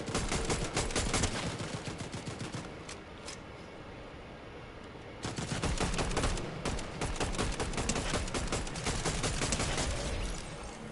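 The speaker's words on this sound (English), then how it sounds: "Who's shooting at me?" Enemy gunfire rattles in a video game, dense rapid bursts of automatic shots, loud and close, pausing briefly before resuming in long sustained volleys.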